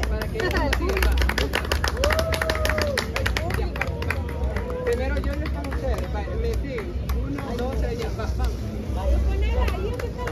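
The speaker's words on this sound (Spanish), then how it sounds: "Aplaudan todos." A crowd of people claps together at a family gathering, dense rapid handclaps running throughout amid lively chatter and overlapping voices.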